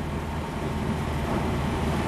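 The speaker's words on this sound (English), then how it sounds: "It's making my idle rev extremely high." A wood gas-powered truck engine idling at a high, steady rev, a constant low rumble filling the whole clip with no pauses.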